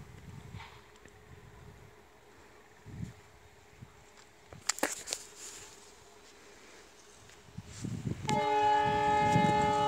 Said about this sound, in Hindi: और ये देख रहे हैं आप प्लेटफार्म है अररिया कोट स्टेशन, जो कि अभी अभी ट्रेन जाने वाली है।